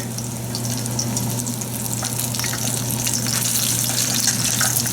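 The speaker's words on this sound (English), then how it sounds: "Fry it crispy, turn it over, and then fry the other side." Fish cakes fry in a pan of hot oil, a dense, steady sizzle with crackling spatter that holds loud and continuous for the whole stretch, with no voices over it.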